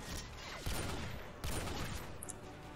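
Gunfire in Call of Duty: Modern Warfare 2 Spec Ops: two heavy shots land about a second apart amid a constant hum of distant battle noise, faint and muffled overall.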